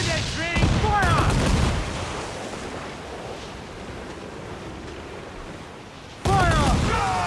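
A ship's broadside cannon volley in Assassin's Creed IV: Black Flag booms over a rushing sea, with a crew shouting orders at the start and end.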